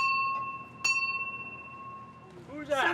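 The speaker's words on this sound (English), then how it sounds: "Who's that? Somebody ringing the bell?" Doorbell rings in a house: a clear sustained electronic chime tone with a sharp strike partway through, then voices begin talking at the end.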